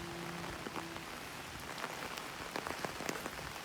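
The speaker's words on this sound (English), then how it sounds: "the rain is falling and the show still has to go on" Rain falls steadily outdoors near St. John Parish Church, Barbados, a constant wash of hiss with crisp individual drops tapping close by throughout.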